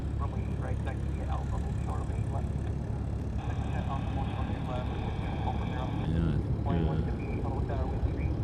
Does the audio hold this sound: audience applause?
no